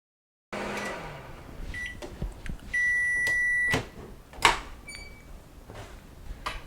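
A microwave oven heating a chocolate mug brownie hums steadily with a few short clicks and bangs, then a sharp electronic beep rings out near the end.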